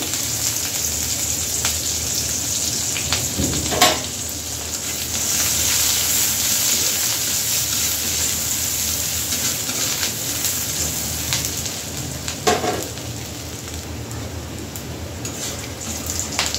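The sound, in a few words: chopped onion frying in hot oil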